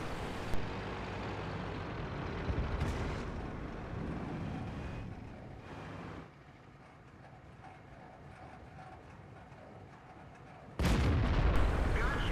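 Tank cannon fire in World of Tanks on the Sand River map: a few loud, booming shots over a steady rumble of engines and battle noise, with the heaviest blast near the end.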